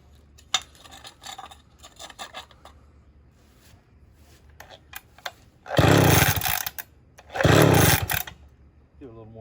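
A vintage Homelite 360 chainsaw, being started with the choke at half, gives two loud bursts of engine sputter after scattered clicks and handling noises, each lasting about a second before cutting out.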